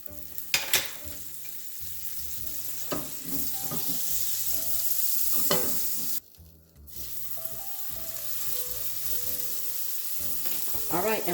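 Chicken breast frying in olive oil and butter in a preheated skillet, a constant sizzle under faint background music, with a few clattering pan knocks and one brief cutout partway through.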